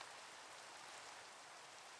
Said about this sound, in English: Am I going crazy or is this a ton of rain?